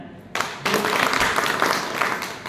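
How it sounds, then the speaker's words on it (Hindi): Audience applause at a gathering in India, clapping that breaks in suddenly and builds into a dense, fairly close burst that carries on to the end. "हमारे विनीत मिश्रा जी सर को मैं एक बात कहूँगा कि जोरदार तालियां बजाएं"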